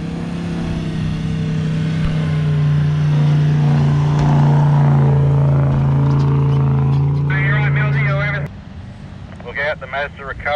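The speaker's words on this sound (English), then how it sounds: "Recovery vehicles coming up ready to launch" Recovery vehicles driving up to launch a boat on Fraser Island, a steady loud engine drone that holds for several seconds and then cuts off, with voices talking toward the end.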